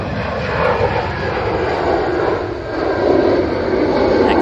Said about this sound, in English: This is off to Pisa, this EasyJet. It's an A320.